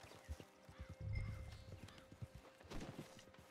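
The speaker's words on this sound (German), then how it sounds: "Das ist ein Mustang." Mustang horse in the Western game Red Dead Redemption 2 Online walks with close, distinct hoof clip-clops, an uneven rhythm of single strikes, a brief neigh-like snort mixed in, all fairly quiet.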